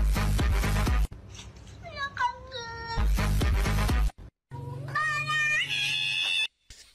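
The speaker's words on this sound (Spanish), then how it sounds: "Soy capaz de apreciar un meme de un gato que dice José Luis" A cat meows repeatedly in short rising and falling cries, loud and close, broken up by bursts of louder noise and brief silences.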